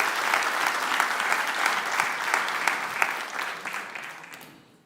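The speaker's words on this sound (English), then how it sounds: "Please, big applause." A large conference audience at a digital summit claps in a dense, sustained burst, with a few sharper individual claps standing out before the applause fades away at the end.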